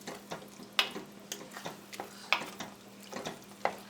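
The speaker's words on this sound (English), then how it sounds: "Give that a good stir." Spoon stirring pumpkin chili with tomatoes and chilies in a pot, quiet rhythmic scrapes and soft clinks against the pot over a faint background simmer.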